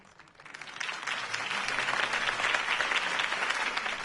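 A crowd gives loud, sustained applause after a mayoral campaign speech for Harvey Dent, with dense clapping that swells and holds steady throughout.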